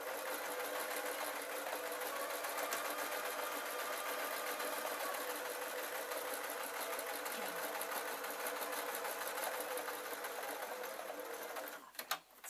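A sewing machine runs steadily, stitching over the seams of a pillowcase, a fast even whirring rattle that is quiet and continuous before stopping with a clunk at the end.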